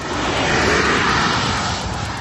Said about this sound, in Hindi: यूक्रेन का ये ड्रोन बेहद कम ऊंचाई पर उड़ता है